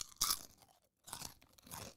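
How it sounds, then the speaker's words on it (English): A corn chip is crunched close to the mouth, giving three short, crisp crunching bursts with brief pauses between them. "I'm gonna crunch one more time"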